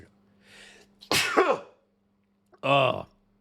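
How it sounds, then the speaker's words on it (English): A single loud, sharp sneeze preceded by a soft inhale, then a short throat-clearing grunt a moment later, close to the microphone. "hang on, I'm going to sneeze"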